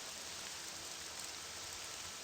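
Rain falls steadily in Morrowind, the Elder Scrolls III fantasy role-playing game, as a dense, even hiss of drops on surfaces that stays constant with no voices.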